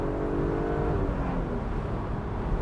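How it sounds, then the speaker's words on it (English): BMW Z3 engine revving steadily from inside the car as it downshifts to second gear around a corner, a loud continuous drone with harmonic tones that dip partway through. "we'll drop it down to second"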